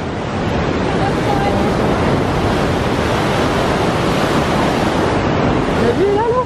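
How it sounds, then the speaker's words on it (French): Roar of a large waterfall in New Zealand, a loud, continuous rushing wash of falling water, broadband and unbroken throughout, with a faint voice briefly audible near the end. "Vu le bruit que ça fait à mon avis elles sont grandes ces chutes d'eau."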